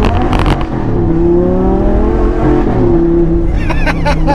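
An Audi R8 V10 5.2 with a modified exhaust revs close by, a loud engine note rising and holding through a long sustained pull, with crackling pops at the start and end.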